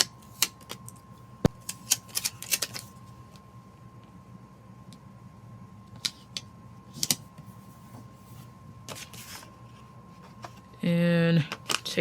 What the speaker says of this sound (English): Cut off the edge of this box.